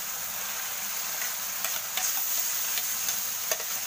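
Mashed eggplant going into a hot pan for puki puki, an Ilocano dish, setting off a steady close sizzle with a few sharp crackles and stirring scrapes, heard alone without talk.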